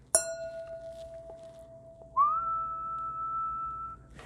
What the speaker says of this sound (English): if I take this wine glass and I strike it